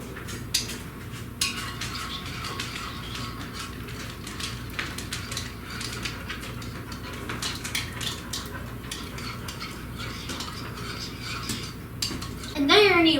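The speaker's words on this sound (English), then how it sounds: "And then you mix it together in a bowl." Milk and other ingredients for no-bake edible chocolate cookie dough are mixed together in a bowl, giving a steady run of utensil scraping and clinking against the bowl, with a louder clatter near the end.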